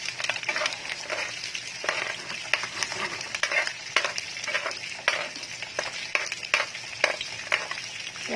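Bicol Express spits and splatters in a hot pan, a steady broadband sizzle with frequent sharp pops and crackles throughout, fairly close and loud, with no talking.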